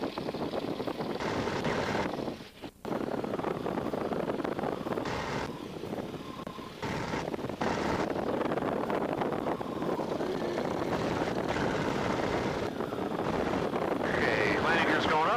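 An aircraft engine drones steadily after takeoff on a stunt flight, a constant roar heavily mixed with wind buffeting and a brief dip in the middle.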